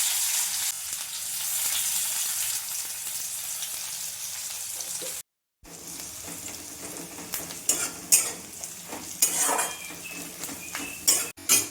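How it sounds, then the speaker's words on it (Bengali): Chopped onion and nigella seeds frying in oil in a karahi, a steady hiss of sizzling with a brief silent gap, followed by clattering stirring scrapes and utensil knocks against the pan, close and without voices. "পেঁয়াজ ভাজা হয়ে গেছে"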